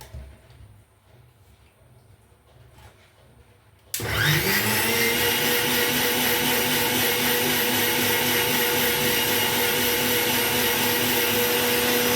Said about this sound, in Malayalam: നന്നായിട്ട് മിക്സിയിൽ അടിച്ചെടുക്കാം